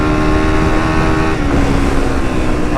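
A Honda CRF300 dirt bike pulls hard in fourth gear out in the bush, its engine droning loud, close and steady with a rising pitch, and no talking.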